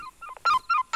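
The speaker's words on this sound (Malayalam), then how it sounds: "ഫോൺ അടിക്കണേ" A telephone rings in a Malayalam film scene: short bright electronic tone bursts in a quick stuttering pattern, close and fairly loud, with no talk over it.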